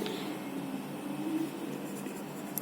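A soft 2B pencil shades across paper in a continuous, quiet scratchy rasp of quick back-and-forth strokes, faint and close.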